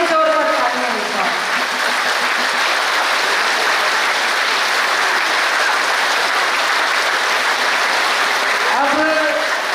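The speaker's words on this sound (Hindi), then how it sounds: "आप कम से कम 1 मिनट तक इतनी जोरदार ताली बजाएं" Loud, sustained applause from an audience at a Patanjali women's yoga gathering in Haryana: a dense, unbroken wash of clapping that holds steady for nearly ten seconds, with faint voices near the start and end.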